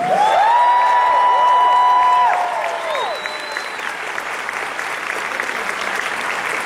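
An audience applauds and cheers loudly for the Bank of Harmony performing group, with whistles and whoops over dense clapping that eases to a steadier, lighter round of applause.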